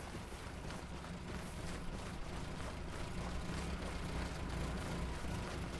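A military vehicle's engine idles in Arma 3, a steady, dense low rumble that holds at an even level throughout with no voices over it.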